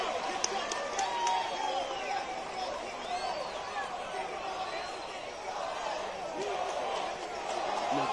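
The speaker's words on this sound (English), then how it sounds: "The crowd here chanting Sojo, Sojo." A dense crowd roars and chants continuously at a live fight event, the mass of voices steady and loud throughout with occasional louder swells.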